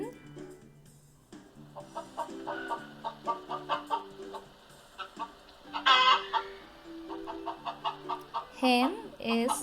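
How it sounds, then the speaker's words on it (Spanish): A hen clucks in a run of short, rhythmic clucks over several seconds, with a louder squawking burst midway and more agitated calls near the end, faint background tones beneath. "Hen"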